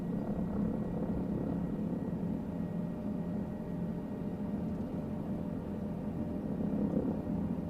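Helicopter rotor drone in Microsoft Flight Simulator, a steady low whirring thrum with a continuous engine hum, even and unbroken throughout.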